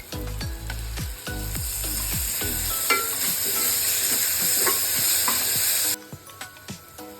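Onions, green chillies and curry leaves sizzle and hiss in hot oil while a spoon stirs with repeated clanks; the bright frying noise holds steady and loud, then drops sharply near the end, leaving a few scattered knocks.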